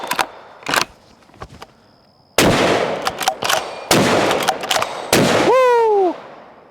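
A Ruger American rifle fitted with a Putnik suppressor and flash cone fires several loud, sharp shots close by at uneven intervals, each with a brief roar of echo. A voice whoops with a rising and falling cry near the end.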